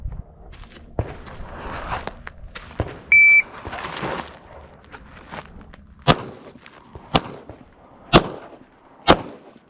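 Four sharp pistol shots ring out one after another at roughly one-second intervals on an outdoor shooting range, each a loud crack with a brief tail, after quieter handling sounds and a short electronic beep.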